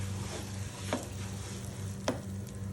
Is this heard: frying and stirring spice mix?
yes